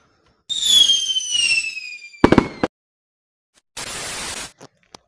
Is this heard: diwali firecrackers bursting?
yes